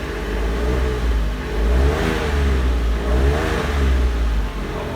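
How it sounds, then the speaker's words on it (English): A Smart Fortwo engine revs steadily up and down in loud, close rising-and-falling surges. "Now I can rev it a little bit."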